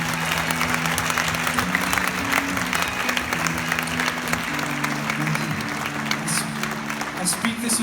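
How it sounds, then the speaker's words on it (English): An audience at a Christian band concert gives a sustained round of applause, steady dense clapping with murmured talk and cheering mixed in throughout. "Let's give a round of applause tonight."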